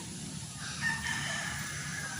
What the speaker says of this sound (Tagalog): Dahil nga sa manok, yung kakakalkal ng manok.